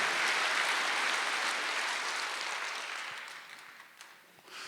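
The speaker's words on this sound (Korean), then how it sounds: "정말 세상을 다 주고도 바꿀 수 없는 어마무지한 축복인 걸 믿으시면 박수 한번 해주세요" Church congregation at a Korean Wednesday worship service clapping together, a bright dense wash of applause that starts full and gradually thins and fades toward the end, with a few scattered claps as it dies down.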